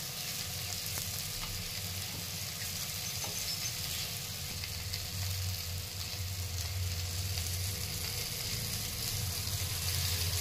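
Green chillies sautéing in a pan with lemon juice, a steady, close sizzle running without a break and with no voices.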